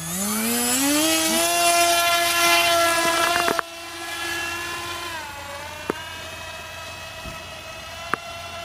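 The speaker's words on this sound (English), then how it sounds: "The plane actually flies." A model plane carrying an Arduino payload flies with a loud, close electric motor whine that climbs in pitch, holds steady, then drops sharply before carrying on more quietly, with a few sharp clicks.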